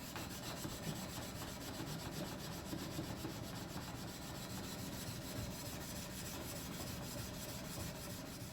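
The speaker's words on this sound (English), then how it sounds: "I sanded in alternating grits all the way to 3000" Hand sanding a steel blade with sandpaper for a hamon, worked through progressively finer grits up to 3000; a steady, continuous rasping rub close by with no pauses, moderately quiet, no voices.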